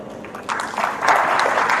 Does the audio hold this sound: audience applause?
yes